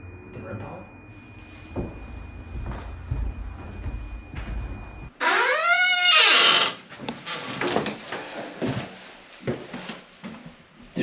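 A door at the bottom of a flight of steps opens or closes during a paranormal investigation in a family home, a sudden loud creaking sweep in the middle of the clip, with quiet talk and room noise before and after.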